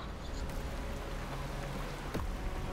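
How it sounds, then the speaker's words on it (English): Steady rain falls in the Destiny 2 video game, a soft, continuous hiss of drops at low level with a brief louder whoosh near the end. "The rain is really impressive. Super impressive rain."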